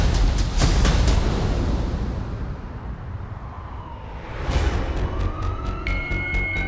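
An ambulance siren wails on a blue light emergency call, loud and close, sweeping up and down in a continuous cycle over heavy road and engine rumble, with sharp bursts of noise around it.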